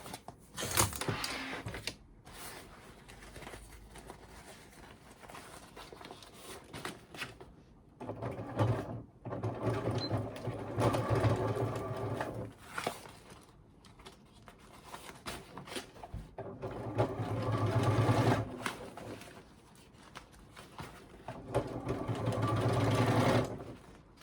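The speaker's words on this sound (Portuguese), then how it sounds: "eu vou costurar aqui de uma ponta a outra pra fechar" Domestic sewing machine stitching a mini thermal bag closed from end to end, running in several bursts of steady mechanical whirring separated by pauses and handling noises, fairly close.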